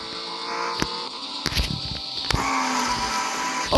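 Race car engine in the Real Racing 3 mobile racing game, a steady sustained drone with several sharp transient knocks and a rising pitch sweep, loudest near the end.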